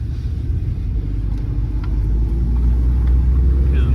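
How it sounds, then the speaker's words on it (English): A truck's engine under acceleration, with twin turbos, drones as a steady loud low rumble that builds slightly toward the end, with faint higher whistling tones. "Hear them turbos?"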